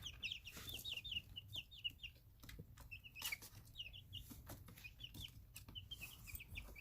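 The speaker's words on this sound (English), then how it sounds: "Oh, Kagome, oh my, chicken frenzy." Young chicks cluck and peep in a frenzied group while eating a treat of plain organic yogurt, with busy overlapping chirps, soft clucks and a few wing flaps close to the microphone.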